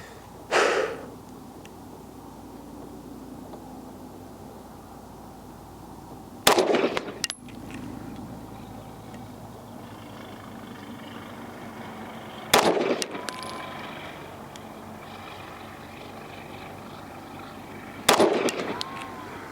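Daniel Defense H9 pistol fired at a shooting range, four sharp, loud, isolated shots spaced roughly six seconds apart, each followed by a short ringing decay over quiet background.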